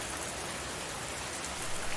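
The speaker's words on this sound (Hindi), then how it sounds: "बारिश तेज हो रही है।" Heavy rain pours down in a steady, dense hiss during a stormy night, loud and continuous throughout with no voices.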